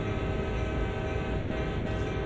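A CSX heavy-haul freight train in Train Sim World rumbles steadily along, its horn sounding continuously over the rolling noise, loud and close.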